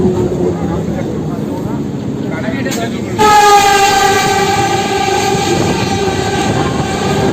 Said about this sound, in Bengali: দেখতে পাচ্ছ একটা এক্সপ্রেস ট্রেন যাচ্ছে